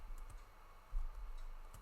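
Quiet clicks of typing on a computer keyboard, a few sparse keystrokes spread across a soft room background, close by with no talking.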